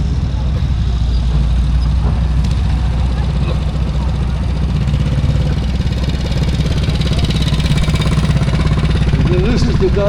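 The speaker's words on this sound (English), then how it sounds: "And it sounds like a Norton too. It's got that deep-throated thunder to it." A Norton motorcycle runs at the Netley Marsh steam and craft show, its engine giving a loud, deep, continuous throbbing rumble that holds steady throughout.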